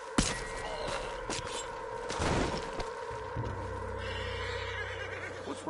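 A horse neighs loudly near the start amid thumps and hoof clops in the video game Red Dead Redemption 2, with a low rumbling background and a second fainter whinny.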